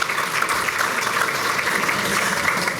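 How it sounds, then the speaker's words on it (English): An audience at a City Club of Chicago luncheon gives dense, steady applause, with many hands clapping together at a fairly even level from start to finish. "That was your opportunity to clap."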